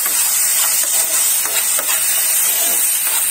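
Ingredients for hot and sour paneer noodles fry and get stirred in a pan, giving a loud, continuous sizzling hiss with faint scraping, close up and without speech.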